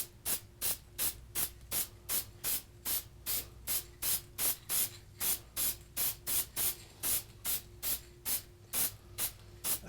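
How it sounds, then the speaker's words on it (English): Marsh ink is sprayed onto a flag in about two dozen short, evenly spaced hissing bursts, close and crisp, each one a quick puff followed by a brief pause, with no voices. "Again, you don't have to spray real heavy."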